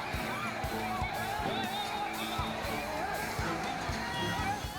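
Dense crowd of devotees surging through broken barricades into a Bholenath (Shiva) temple, a continuous loud roar of many voices, shouts and calls layered over one another without pause.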